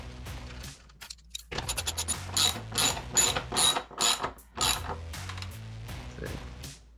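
Quarter-inch bolts on steel C channels being snugged with a hand ratchet, bursts of rapid clicking pawl strokes with short pauses between, close and fairly quiet.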